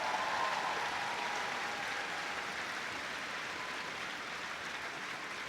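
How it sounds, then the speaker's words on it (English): Steady, sustained applause from an indoor arena crowd at an international heelwork-to-music dog freestyle competition, a dense even wash of clapping throughout with no voices on top. "Please give a big round of applause."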